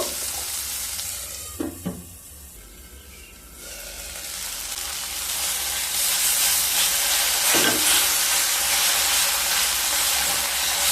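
Chopped medium tomatoes stirred into frying onion and garlic for masoor dal with drumsticks: a few scraping stirs early, a brief quieter lull, then a dense, loud, steady sizzle that swells and holds to the end.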